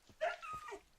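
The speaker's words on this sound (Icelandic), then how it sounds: "hvað er það margir hundar?" A dog gives a short, close yelping whimper lasting under a second, with a faint whine at the end.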